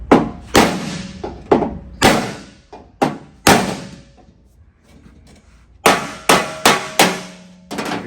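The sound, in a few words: hammering sheet metal into shape for car door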